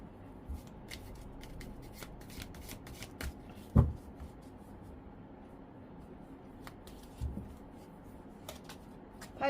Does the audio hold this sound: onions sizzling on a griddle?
no